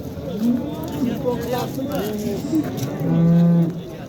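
Cattle moo at a busy livestock market, with a long, deep, loud moo close by near the end, while people talk throughout.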